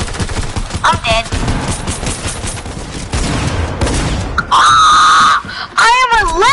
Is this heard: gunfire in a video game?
yes